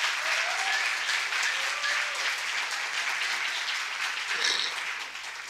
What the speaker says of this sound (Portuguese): Eu acho que as palmas me aprovando são poucas, ouviu?